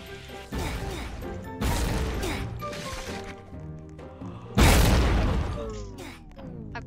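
Loud bursts of bomb explosions in the chaotic multiplayer video game Death Sandbox, with several heavy crashes over about seven seconds and the biggest blast near the end, mixed with game audio.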